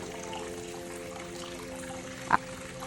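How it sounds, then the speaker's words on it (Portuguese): Water gently moves and trickles in a bathtub at a bubble hotel in Northern Ireland, a soft steady wash with one brief louder splash near the end. "Eu já cheguei e fui relaxar na banheira, sente a vibe."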